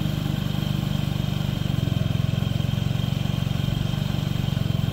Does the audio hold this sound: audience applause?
no